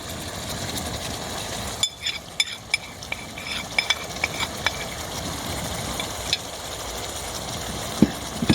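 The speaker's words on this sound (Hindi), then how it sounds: "तो इसको अच्छी तरह मिक्स कर लेंगे ताकि मसाले जो हैं वो चिकन में अच्छी तरह मिक्स हो जाएं।" Chicken is stirred with ground coriander, cumin, garam masala and black pepper, giving irregular scraping and clinking knocks over a low steady hum, with no talking.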